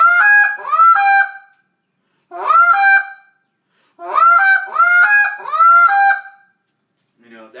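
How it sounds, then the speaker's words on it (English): A goose call blown in a hail sequence for a contest routine, loud close honks in three bursts of rapid repeated notes separated by short silences. "this is how a general hail call sequence goes"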